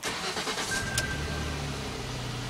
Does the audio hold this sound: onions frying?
no